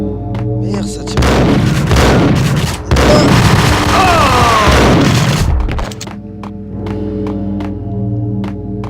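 Max Payne video game gunfire, a dense barrage of loud booming shots and impacts lasting several seconds before fading to quieter game sounds, with brief talk.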